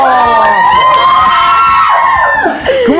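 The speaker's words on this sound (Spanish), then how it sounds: "¡Aplausos en el foro!" A TV studio audience breaks into loud, sustained cheering and whooping with shouts, filling the whole stretch without pause as a guest is introduced.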